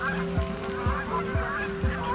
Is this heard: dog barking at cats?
no